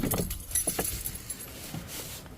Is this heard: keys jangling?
yes